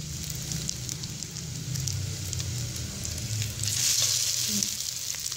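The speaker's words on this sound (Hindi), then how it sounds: "और अभी हम इसे अच्छे से फ्राई कर लेंगे।" Egg sandwich bread pieces frying in a pan, a steady close sizzle running throughout with faint stirring and scraping, no voices.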